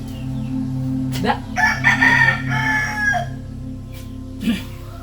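A rooster crows loudly once, close by, over a steady low hum, followed by a brief squawk.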